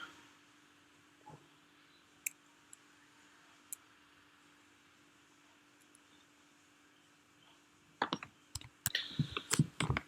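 Typing on a computer keyboard in a quiet room: a few isolated clicks early on, then a quick burst of close, crisp keystrokes near the end.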